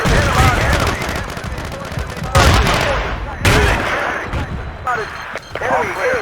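Battlefield 2 artillery fire lands in bursts of booms and crackling gunfire, loud and close, while radio-style voices call out spotted enemies over the combat.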